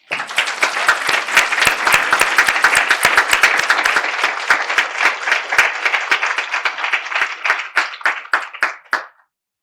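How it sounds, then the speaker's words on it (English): Audience applause at an awards ceremony: a dense, loud burst of clapping from a crowd that holds steady for several seconds and then thins out and fades into a few scattered final claps. "let's give a huge round of applause to our 40 under 40 class of 2084"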